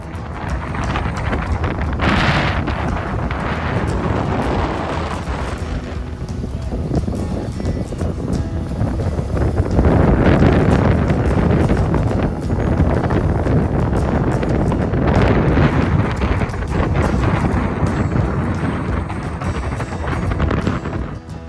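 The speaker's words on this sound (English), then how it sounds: "It was really windy." Strong wind on a beach jetty in Texas roars and buffets the microphone nonstop, a loud rumbling rush that swells and eases in gusts.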